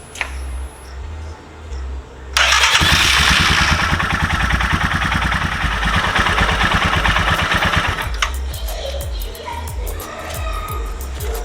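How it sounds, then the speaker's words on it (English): A Royal Enfield Himalayan motorcycle engine cranks and starts after a quiet pause, then settles into a loud, steady, close-up idle with a rhythmic thumping beat while someone speaks briefly near the end. "run the engine for about 1 to 2 minutes"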